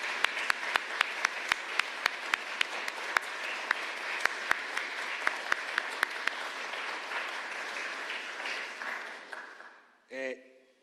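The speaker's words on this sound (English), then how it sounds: "join me one more time for a round of applause for all of our speakers" An audience at a film premiere gives a round of applause for the speakers and musicians, dense sustained clapping with some louder individual claps that fades out near the end, with a brief voice after it.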